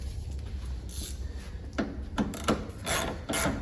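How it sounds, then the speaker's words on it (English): A ratchet tightens a 10mm bumper bolt on a 2006 Ford Mustang, heard as short bursts of clicking pawl strokes, close and fairly quiet over a low background hum, with no talk. "Then you're gonna come over here and start your 10mm bolt over there."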